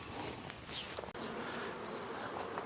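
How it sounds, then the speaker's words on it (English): Honey bees buzzing around the entrance of a new beehive outdoors, a steady, diffuse hum of many insects close by with no talking. "There's a fair amount of bees out there"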